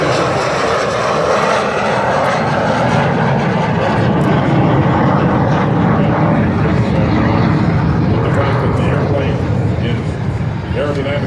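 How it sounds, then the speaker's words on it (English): An airplane flies slowly past at an air show in Goldsboro, North Carolina, with landing gear and flaps down, a loud, sustained engine roar rising and falling as a voice talks over it. "the slow speed characteristics of the airplane. He's got the gear down, he's got the flaps down."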